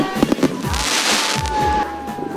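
New Year fireworks burst overhead in a rapid cluster of pops and booms, crackling and hissing as they fade, heard from a moderate distance outdoors.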